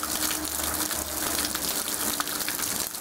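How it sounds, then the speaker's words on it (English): Rainwater gushing steadily from a gutter outdoors in the rain, a continuous loud splashing rush with no pauses and no voices. "I call it gutter fall instead of waterfall."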